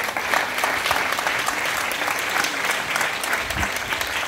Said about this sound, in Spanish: Si nos ponemos de pie y le regalamos palmas a nuestra señora alcaldesa